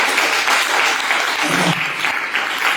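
A youth camp congregation claps together in a dense, sustained round of applause that stays loud and even for the whole stretch, with no voices standing out.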